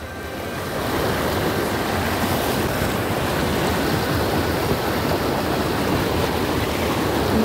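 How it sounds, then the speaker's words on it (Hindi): Swollen, fast-flowing river in flood, a loud, steady roar of rushing water that fills the whole stretch without letting up, with no one speaking. "यहाँ से नदी काफ़ी ज़्यादा उफान पर है।"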